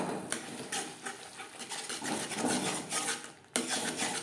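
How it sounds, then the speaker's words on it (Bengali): Ground coriander and cumin being stirred into a masala in a pan for a Bata fish curry, a steady scraping and clinking of spoon against metal with sizzling, no voices. "মশলার সাথে গুঁড়ো মশলা বেশ ভালো করে মিক্সড করে দেবো।"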